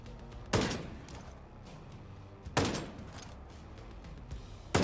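Turret fire in Ghost Recon Breakpoint comes as two sharp, fairly distant bursts about two seconds apart, each decaying into a rumbling tail over quiet ambience, with a third starting at the very end.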